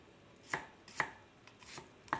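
A knife chops through shallots on a cutting board in four distinct, fairly sharp strikes spaced about half a second apart, close by and alone with no talk.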